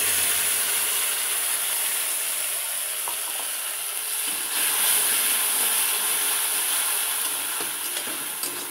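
Cumin, ginger and chili paste hitting hot oil with browned onions in a kitchen pan, producing a steady, close sizzle with faint scraping and stirring clicks throughout, no voices.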